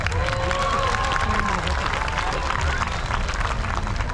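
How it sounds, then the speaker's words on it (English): A crowd at a fair sawing contest claps and cheers steadily throughout, with speech mixed into the applause. "Give them both a big round of applause."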